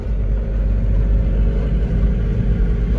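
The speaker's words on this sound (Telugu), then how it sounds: "4 టన్నులు వేసుకొని గోల్ చెరువు ఘాట్లు అవలీలుగా ఎక్కేస్తుంది అనమాట బొలేరో" A Mahindra Bolero pickup hauling a 4-ton load labours up the Gol Cheruvu ghat road in low gear, its engine a loud, steady, close rumbling drone that never lets up.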